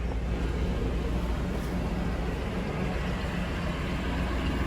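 A 1988 Chevy R30 truck engine idling steadily after a cold start following a year of sitting, a constant low rumble recorded close with no talk.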